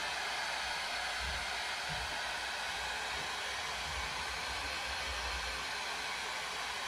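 Cooling fans in an M1 Max MacBook Pro running at high speed give a steady, broad airy whoosh that holds constant for the whole stretch, close and fairly quiet, with no voices.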